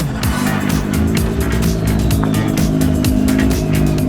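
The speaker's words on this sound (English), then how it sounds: "So our first run on new tyres there, Marco, a little bit of a quali simulation." Formula Ford race car running on track on new tyres, a loud close engine drone with rapidly shifting pitch as the revs rise and fall through gear changes, no talk.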